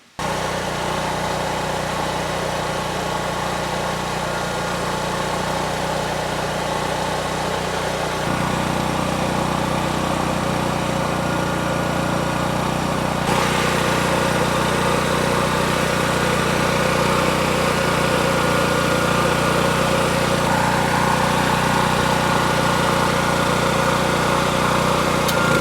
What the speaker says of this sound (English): we are going to see if we can use the force of this little welder